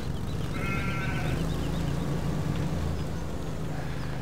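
A sheep bleats once, brief and fairly clear, in a farming video game, over a steady low rumbling engine-like background hum.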